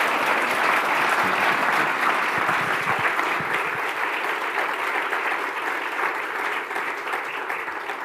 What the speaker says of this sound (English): can we give a big round of applause to the other 9 who have done a superb job?